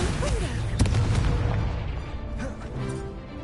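A Confringo spell explosion in the video game Hogwarts Legacy bursts out amid loud, dense battle noise, with booming blasts and crackling impacts running throughout alongside combat effects.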